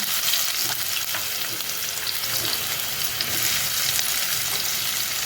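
Garlic and a large onion frying in a spoonful of oil for sprouted mung bean usal, a steady close hissing sizzle with faint stirring scrapes throughout.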